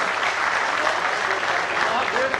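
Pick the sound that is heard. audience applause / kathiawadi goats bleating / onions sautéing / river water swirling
audience applause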